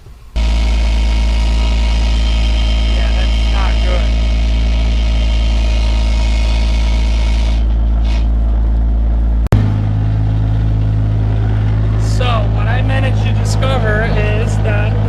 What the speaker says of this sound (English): I keep having loud grinding noises present every time I drive the car